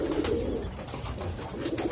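A racing pigeon in a loft coos loudly and close by, with steady throaty rolling calls that fill the short moment.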